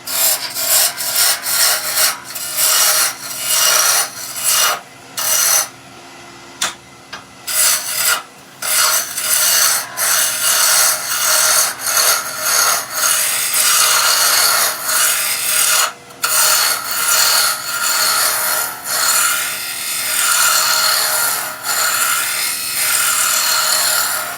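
Wood being roughed down on a lathe for a Christmas tree turning, a loud continuous rasping scrape of the gouge against the spinning blank with brief pauses and restarts, close and steady, no voices.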